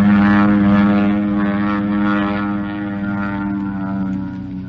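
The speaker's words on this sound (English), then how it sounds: "That's no plane of ours. That's a Mitsubishi if I ever saw one." A Mitsubishi propeller warplane drones loudly overhead in a 1943 wartime setting, a steady, thick engine hum that eases slightly as it passes.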